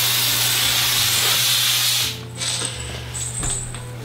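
Stink spray aerosol hissing in a loud, steady spray for about two seconds, then cutting off, followed by faint mechanical clicks and rattles.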